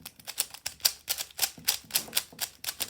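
An old, unlubricated WR speed cube is turned stiffly, giving a quick series of sharp, close plastic clicks and scrapes, about a dozen in a row with an uneven rhythm.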